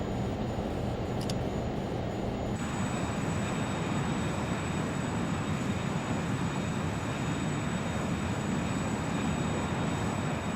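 A Learjet 35 taxiing in Microsoft Flight Simulator 2024 gives a steady, loud jet-engine roar and whine that holds unbroken throughout, with a brief high click near the start and no voices.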